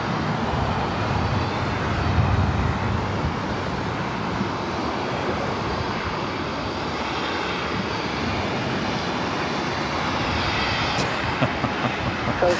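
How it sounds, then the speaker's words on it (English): A JetBlue Airbus A320 airliner at Los Angeles International Airport gives a continuous, moderately loud jet engine rumble and whine, steady across the whole stretch, with a faint sharp click near the end and no talking. "Up next, JetBlue A320."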